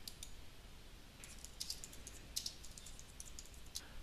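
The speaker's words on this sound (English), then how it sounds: "type in some text in the score information setup" Keys tapped on a computer keyboard while text goes into notation software, a quiet, irregular run of light clicks with small bursts of keystrokes, close and alone.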